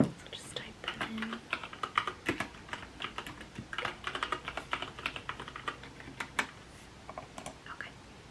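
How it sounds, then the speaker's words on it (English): Steady typing on a computer keyboard during a bookstore checkout roleplay, many quick soft clicks in uneven bursts running the whole time, close to the microphone and fairly quiet, with no talking. "So just type that in."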